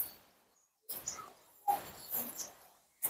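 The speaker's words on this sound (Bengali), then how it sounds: "কবুতর ওইগুলা খালাম্মাদের কবুতর" Pigeons on a residential rooftop give short bursts of bird calls, three separate bursts with silence between, close and fairly clear.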